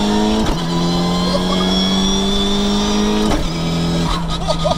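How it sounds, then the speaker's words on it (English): A high-revving HKS stroker Mitsubishi Evo 7 engine climbs steadily, then briefly dips at quick sequential gear changes before pulling hard again, loud and close from inside the car. "The way it just goes through the gears."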